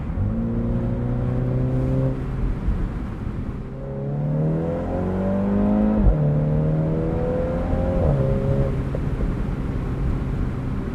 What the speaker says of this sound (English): fun pops between gear changes there